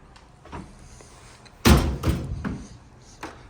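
A wardrobe door with a full-length mirror on its inside swings shut in a hotel room and lands with one loud thunk. A couple of softer knocks follow as it settles. No one speaks.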